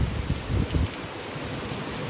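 Heavy rain pours down in a sudden New York downpour, a dense continuous roar of falling water close by with low rumbling beneath, steady and alone.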